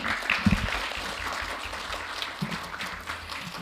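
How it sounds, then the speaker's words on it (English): A room full of people claps steadily after a panel discussion at a forum, a dense wash of applause that holds at an even level throughout. "Please give them a warm round of applause once again."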